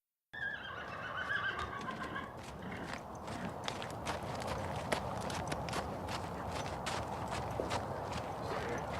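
Horses move about inside a barn, hooves clip-clopping on the floor amid a steady rustling background, with a whinny near the start and several sharp knocks scattered throughout.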